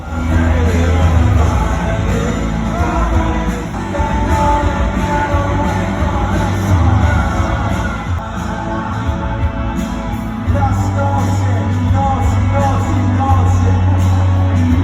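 A concert crowd in Melbourne shouts, whoops and cheers in a loud, continuous mass, with scattered yells rising over the steady roar and music-like tones underneath.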